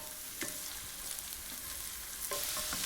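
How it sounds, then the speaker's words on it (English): Finely chopped ginger, garlic and minced fresh red chilies sautéing in a pan, a quiet steady sizzle with a couple of brief stirring scrapes and no talk. "in goes a tablespoon of finely chopped ginger, 6 cloves of garlic, 2 fresh red chilies just finely minced"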